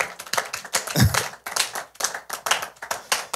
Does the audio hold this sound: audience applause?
yes